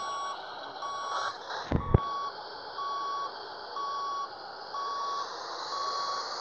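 Reversing beeps from a truck in Grand Truck Simulator 2, a steady series of evenly spaced electronic tones repeating about once per second over engine hum, with two sharp knocks partway through.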